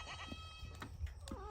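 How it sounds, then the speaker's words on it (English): A goat bleats a few times, soft and somewhat distant, with wavering cries standing out over quiet background noise. "That's a goat."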